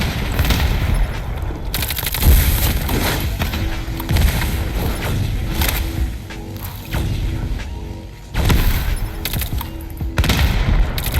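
Type 19 assault rifle firing in Call of Duty Mobile: loud, dense automatic bursts with brief pauses between them, near and alone with no talk.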